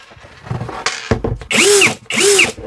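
A new cordless drill (screwdriver) stopping abruptly, its gearbox letting out loud crackling, rattling bursts; two strong harmonic whirring pulses with a gritty crackle follow earlier motor noise, close to the microphone.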